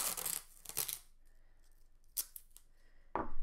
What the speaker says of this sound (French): on va fixer la feuille sur le support avec le scotch